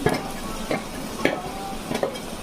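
Tempering for millet (korra) pongal fries with asafoetida and turmeric, a steady close sizzle broken by several short stirring scrapes at a regular rhythm, with no voices.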